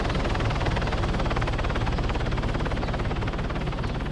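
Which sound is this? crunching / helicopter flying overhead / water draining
helicopter flying overhead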